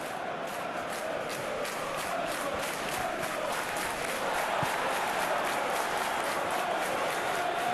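Dense stadium crowd noise from a football video game on match day, a steady loud roar of cheering and chanting that holds evenly throughout with no break.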